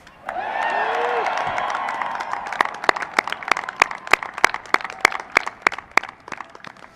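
A graduation crowd at a cadet ceremony applauds for a fellow cadet, first as a dense wash of clapping and murmured cheering, then thinning into scattered, distinct individual claps.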